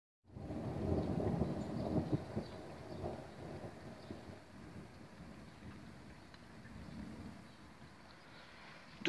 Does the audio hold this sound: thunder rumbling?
yes